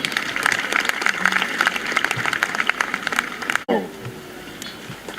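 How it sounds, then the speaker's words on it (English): A crowd at a university convocation ceremony in the Gambia claps in sustained applause that cuts off abruptly, leaving a quieter room with a faint hum. "Please let's give him another round of applause."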